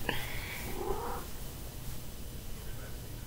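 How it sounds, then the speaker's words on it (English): A cat being held gives a short tonal call, then settles into a soft, steady low rumble of purring up close, with no one speaking. "I'll hold a cat."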